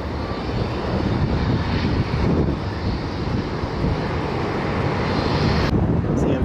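Spirit Airlines jet rolling out at Fort Lauderdale airport, heard as a steady, broad engine roar mixed with wind buffeting on the microphone, constant and fairly loud throughout, with no clear talk.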